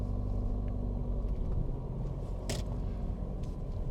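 A manual-transmission car pulling away uphill, its engine giving a steady close low rumble throughout with a brief sharp click midway.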